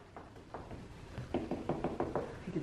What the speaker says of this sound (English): He usually goes down to the front door when he hears a knocking noise.